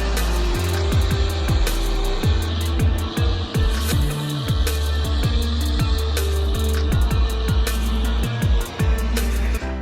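Large band saws and a chainsaw in an XMK series lumber processing system cut wood continuously and loudly, with repeated rising and falling engine and blade sweeps over a dense mechanical roar.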